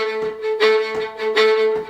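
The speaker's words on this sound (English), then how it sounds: "play a rhythmic pattern on that one chord. This could be a bunch of eighth notes." Short fiddle passage sawing rhythmic eighth notes on a single chord, with accented strokes recurring in a regular pattern, close and solo.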